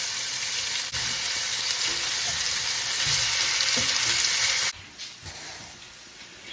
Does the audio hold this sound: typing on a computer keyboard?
no